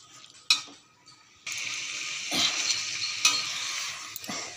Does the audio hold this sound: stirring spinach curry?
yes